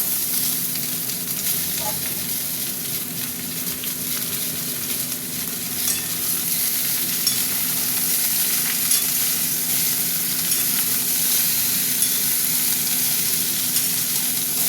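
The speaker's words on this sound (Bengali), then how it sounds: "পেঁয়াজটা ভাজা ভাজা হয়ে গেছে, আমি এবার সবজিগুলো দিয়ে দিলাম।" Steady, loud sizzling of pumpkin, potato, drumstick and pointed gourd frying with browned onions in a pan, a continuous crackling hiss with occasional stirring scrapes throughout, no voices.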